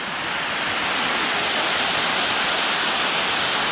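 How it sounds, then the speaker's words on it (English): A waterfall in Turkey, more a cascade than a sheer drop, gives a steady, dense, unbroken rush of falling water, loud and close, with no voices. "I guess this is the waterfall"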